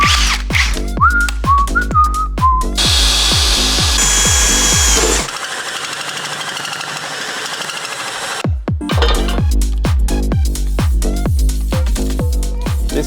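A power drill bores through a steel 4WD chassis in a long run of rapid, pulsing bursts with whining tones, pauses in the middle with a steadier hiss, then resumes its choppy rhythm up close.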